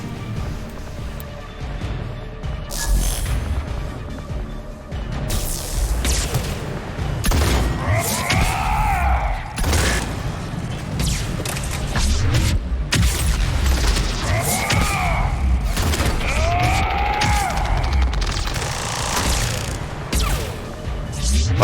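Booming explosions and gunfire crash repeatedly through a modded Mass Effect 3 combat session on Insanity difficulty, loud and layered with swooping effects, while someone talks over the action.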